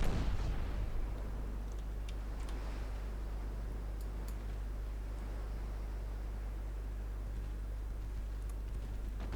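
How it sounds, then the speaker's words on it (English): Naval 2-inch guns fire in the warship game Ultimate Admiral: Dreadnoughts, heard as a loud opening burst, then faint scattered distant pops and ticks over a steady low engine drone. "The 2-inch guns have joined in."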